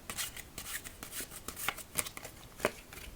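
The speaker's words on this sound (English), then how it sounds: "So as we shuffle these up" Playing cards are shuffled close up, a run of soft riffling and sharp flicking clicks at an uneven pace, with no talking.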